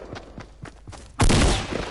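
Pistol gunshots in the Fortnite video game: a few light popping shots at a steady rhythm, then a loud burst of heavier gunfire that stays dense to the end, no speech.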